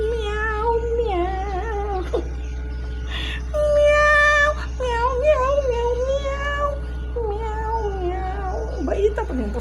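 A pet cat meows repeatedly, drawn-out and whiny, close by under a steady low hum, with a person's voice imitating its meows at times.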